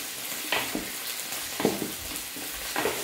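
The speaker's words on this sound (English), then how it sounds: "The onions are getting translucent, the garlic is giving off a good smell" Onions and garlic sautéing in a pan for Filipino pinakbet, a steady close sizzle with three or four stirring scrapes at irregular intervals, no talking over it.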